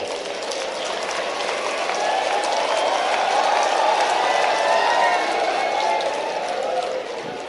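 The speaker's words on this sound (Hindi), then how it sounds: "जोरदार ताली आपके लिए भी बजाओ।" A large crowd at a health conference in Bhopal claps loudly and steadily for several seconds, the dense applause swelling and then tapering off at the end.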